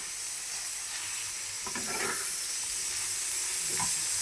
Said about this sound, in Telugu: ఇదంతా మంచిగా ఫ్రై అవ్వాలి.